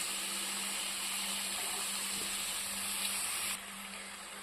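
Washed chicken dropped into hot oil in a pan for a homemade chicken gravy curry, giving a steady, loud, close sizzle and hiss that holds evenly and eases slightly near the end.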